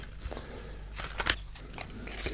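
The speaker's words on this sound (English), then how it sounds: "These pencils, let me just open that up for you" Plastic packaging of a box of HB pencils being torn and opened at close range, with several sharp crinkling snaps and crunches, one louder tear standing out near the middle, in a quiet room with no talking.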